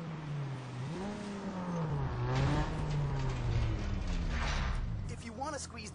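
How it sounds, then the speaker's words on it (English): A car engine revs on a dyno in the racing game Need for Speed Underground 2, its pitch climbing and sweeping over several seconds beneath a steady mechanical drone, while a voice talks over it. "I'm going to dyno this thing."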